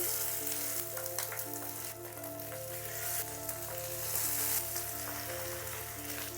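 Tied pieces of ilish fish fry in an oiled pan, a steady close sizzle with scattered pops and crackles and a faint low hum beneath, no talking.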